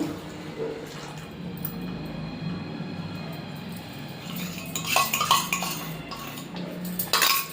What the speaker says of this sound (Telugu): ఇప్పుడు అది కూడా ఉండలు పట్టకుండా ఇలా కలుపుతూనే ఉండాలి